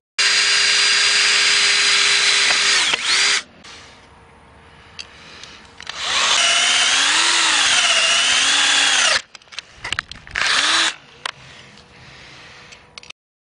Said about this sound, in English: I'm going to take out the flat bar and go ahead and drill the hole for this now.